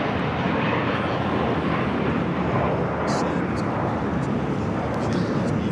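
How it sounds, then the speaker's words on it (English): A Boston-bound airliner taking off from runway 25 right on the south side of Los Angeles airport, a steady broad roar of jet engines filling the clip at moderate distance, loud and continuous. "The flight to Boston now taking off here on the south side."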